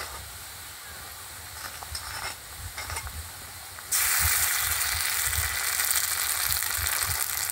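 Chopped onion browned in a pan, now joined by green and dried red chilli paste, fries with a steady close sizzle that jumps sharply louder midway as the paste hits the hot oil, with stirring scrapes throughout.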